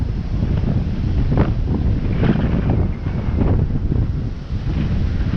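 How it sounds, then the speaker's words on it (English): Strong wind buffeting the microphone on White Beach in Boracay, a steady loud roar with gusty swells and the low wash of surf blended underneath. "The wind is really strong."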